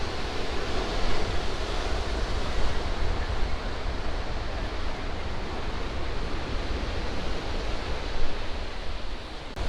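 Ocean surf at a beach in Carmel, California rolls in a broad, steady wash of noise, loud and continuous, with slight swells and wind, no voices.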